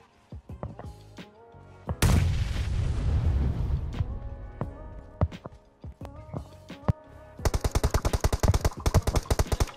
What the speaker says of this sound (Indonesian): Halo, siapa yang tembak?